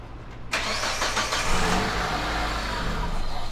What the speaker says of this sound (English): we will ask someone to start the engine, and then we will closely look at the reading.